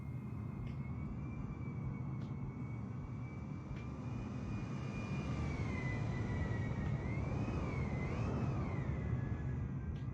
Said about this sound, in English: The engine sound must be awesome in real life